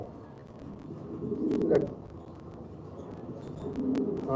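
Black Beauty Homer pigeons coo in low, soft rolling calls, a swelling coo in the middle and another toward the end, close by against a faint background murmur at a pigeon sale.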